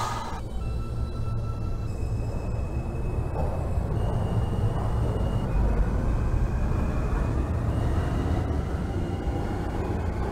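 A J local subway train, a half Cuomo R160 in the OpenBVE train simulator bound for Chambers Street, runs steadily with a loud, continuous low rumble and rolling wheel noise, plus a faint rising motor whine, and no talking.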